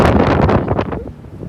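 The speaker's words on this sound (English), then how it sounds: "they've got all these barriers here that take the wind down" Loud, buffeting wind rushing over the microphone on an open upper deck of a cruise ship at sea, a continuous roar with gusty swells.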